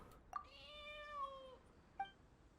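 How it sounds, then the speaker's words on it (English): In the game Genshin Impact, a kitten at a shrine gives one clear, drawn-out meow, then a short chirp, both soft and close against a quiet background. "Whoa, that's a fierce little kitten, alright?"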